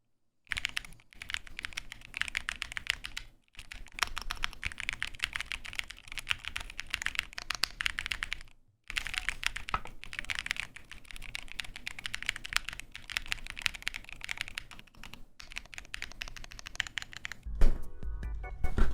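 Typing on a self-assembled custom mechanical keyboard, a dense, continuous patter of close key clicks with a few brief pauses, running steadily for nearly twenty seconds without talk.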